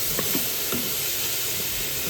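Chopped red onion sweats in a pot roast pan over the browned bits left from searing meat, a steady close sizzle and hiss with faint stirring scrapes, no voices.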